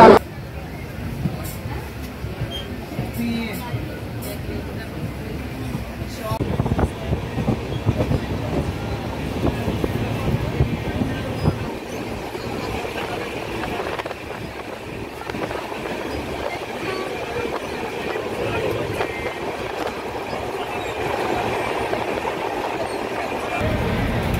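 Shantiniketan Express 12338 passenger train running, a steady low rumble of the moving carriage filling the whole span with faint rhythmic rail clatter, people talking over it now and then.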